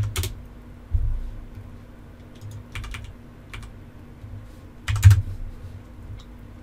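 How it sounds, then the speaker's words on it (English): Keys on a computer keyboard clatter in short bursts of quick typing, separated by pauses, set against a steady low hum in a quiet room. "type in my name"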